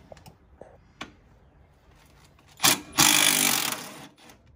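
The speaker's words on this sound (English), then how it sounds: "This is why you need an Ugga Dugga gun." An impact wrench rattles on a shock bolt of a CFMOTO ZForce side-by-side, two loud close bursts, a short one then a longer hammering run, after some light clanks and handling noise.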